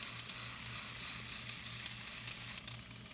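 A wooden carving knife handle is sanded with 120 grit sandpaper to round and smooth its corners. The result is a soft, steady scratchy hiss with a faint rhythmic pulse from the repeated strokes, quiet and without talk.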